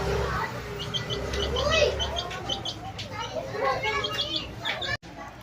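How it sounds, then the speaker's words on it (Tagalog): Tiny chick, only a few days old, peeping in rapid high repeated chirps, fairly close and steady over a constant background hum. "Ayan guys, yung sisiw ko guys, maliit pa yan guys."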